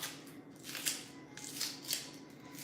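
Kitchen scissors snip through green onions for an Epis-style green seasoning, a run of short crisp cuts repeating at close range with no talking.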